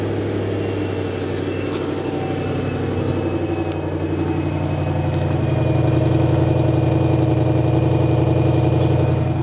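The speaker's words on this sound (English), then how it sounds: "Gorgeous sound from the exhaust there on a cold start." A cheap V8 Jaguar car idles steadily after a cold start, its exhaust giving a deep, even rumble that swells slightly louder midway and holds smooth and close throughout.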